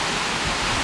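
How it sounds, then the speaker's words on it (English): A waterfall inside a cave in the Philippines pours steadily, making a dense, even hiss and rush of falling water that fills the space without pause. "listening to the waterfall"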